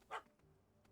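A single short dog bark from The Witcher 3: Hearts of Stone, a quick mid-pitched yap near the start, fairly faint against quiet game ambience with a soft low hum.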